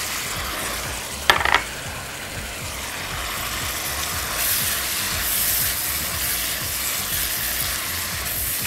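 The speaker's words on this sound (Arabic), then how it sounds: "خدوا تقليبه برده كده مع السجق، السجق ياخد من طعم الكرات والكرات برده ياخد من طعم السجق" Leeks and sausage frying together in a pan, a continuous sizzle with a brief clatter of stirring early on, then the hiss swelling slightly as the cooking goes on.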